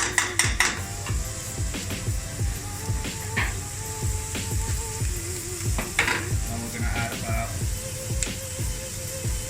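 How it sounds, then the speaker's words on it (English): Onions and peppers sizzle while softening in a pan for a restaurant-style lamb balti, a constant close hiss broken by utensil clatter and stirring scrapes. "I'm going to soften the onions and peppers."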